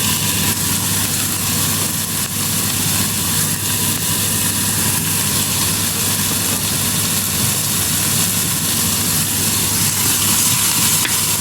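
Onions sizzle steadily in a frying pan while carrots are added, giving a loud, continuous hissing fry throughout with no voices.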